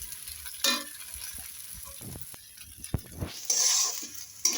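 Chicken pieces for noodles frying and being stirred in a pan, a soft sizzle broken by a few sharp scrapes and clatters, with a louder hissing burst near the end; no talk.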